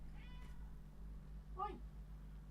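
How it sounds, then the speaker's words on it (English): A house cat gives a single short meow at mid-distance, breaking through a steady low hum of background noise, with a faint higher cry just before it. "Hey, Kitty, what's up?"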